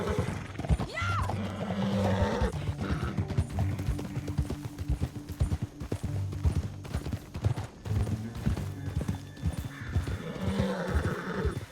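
Horse hooves clip-clop steadily in Red Dead Redemption 2, a continuous run of hoofbeats under layered game music and ambience, with a whinny near the start.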